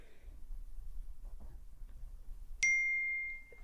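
A phone's text message notification tone plays once as a single bright ding that rings out and fades, following a stretch of quiet low background noise.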